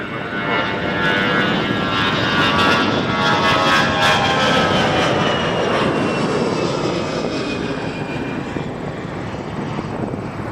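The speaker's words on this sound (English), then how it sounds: "The 777, on the roll," A Boeing 777 jet roars down the runway on its takeoff roll at a busy airport, a loud, sustained engine rumble with rising whine that fills the whole stretch without any talk.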